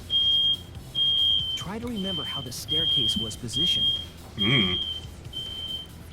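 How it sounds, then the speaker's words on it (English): A smoke alarm chirps in short repeated high beeps at a steady rhythm, moderately loud, while a person talks over it and hums. "That's the smoke alarm."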